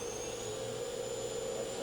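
A Hardinge vertical machining center spindle spinning at 5,000 RPM, a steady even whine with a constant high tone over a low mechanical hum, unbroken and moderately loud for the whole short stretch.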